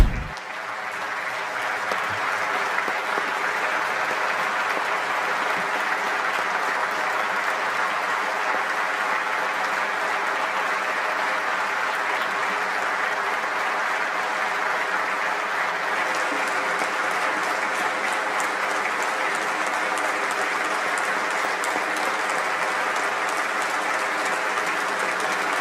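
A standing ovation in the Turkish parliament for Palestinian president Mahmoud Abbas: sustained, even applause from a large assembly filling the hall without break, with no talk over it.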